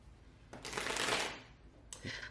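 Tarot cards are riffled in a quick shuffle, a crisp fluttering burst followed by a shorter second riffle, close by with no talking.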